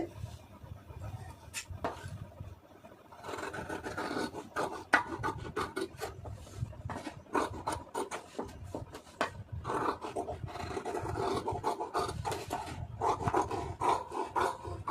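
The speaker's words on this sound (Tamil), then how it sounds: "இதை அப்படியே கட் பண்ணிடலாம்" Scissors cut through blouse fabric along marked lines in a close series of rasping, crunchy snips, fast and irregular, with no talking.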